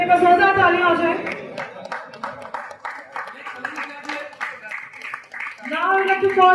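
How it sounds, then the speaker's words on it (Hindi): Audience clapping at a Mahindra BE 6 and XEV 9e electric car unveiling in the Andaman and Nicobar Islands as a customer is called to the stage. Scattered claps run through the middle, with someone speaking before and after. "एक बार जोरदार तालियां हो जाए"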